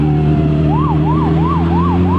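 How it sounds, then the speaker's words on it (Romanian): Ambulance siren wailing loudly in city traffic, a rising and falling two-tone sweep repeating about every third of a second over a steady road and engine hum. "Vine ambulanța."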